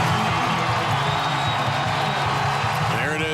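A large stadium crowd roars steadily at a 2011 college football game between Cincinnati and Vanderbilt, a dense continuous wash of cheering with a commentator talking over it.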